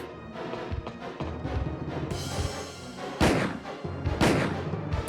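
Gunfire in the PS1 game Resident Evil echoes over a dense, rumbling game soundtrack, with a couple of loud, sharp shots standing out near the end.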